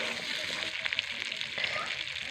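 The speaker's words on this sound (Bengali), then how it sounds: "এবার গরম জল দিয়ে দেব।" Hot water poured into a pan of cooking meat that has been sautéed, giving a continuous hissing sizzle and watery splashing at close range and moderate loudness.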